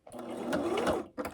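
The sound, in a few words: sewing machine stitching quilted placemat edge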